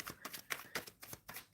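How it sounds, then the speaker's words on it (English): Tarot cards being shuffled close by, a quick series of soft riffling bursts in an irregular rhythm, faint and alone. "Okay, shuffling for Prabha."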